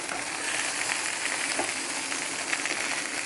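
Brisket cooking in a pan that has run dry, food sizzling and scorching on the bottom: a steady, dense hiss of frying close by, with faint scraping and no voices.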